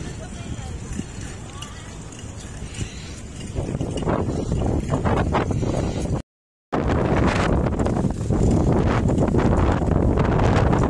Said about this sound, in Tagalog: Uy, mahangin pa rin.